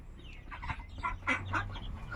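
Brooding hens and ducks near their eggs give a run of soft, close clucks and throaty calls in quick succession over a quiet outdoor background.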